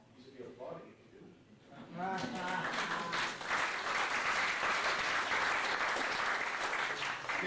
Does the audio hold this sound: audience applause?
yes